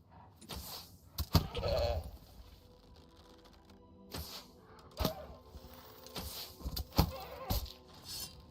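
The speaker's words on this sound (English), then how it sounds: "It's a goat." A goat bleats in the video game Pax Dei, several short bleats scattered among game noises and clicks, moderately loud and without speech.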